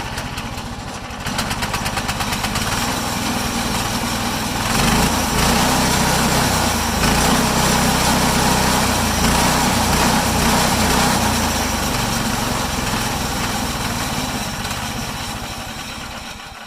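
The small gasoline engine of a MechMaxx sawmill idles steadily and loudly after carburetor trouble, its buzzing drone holding a fairly even pitch with slight surges throughout.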